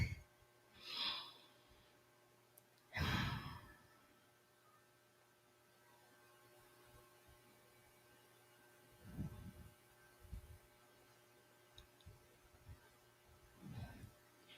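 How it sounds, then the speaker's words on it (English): A few slow, deep breaths during a guided meditation session, each a soft whooshing inhale or exhale several seconds apart, faint over a steady low hum, with no talking. "Let's take 3 deep breaths"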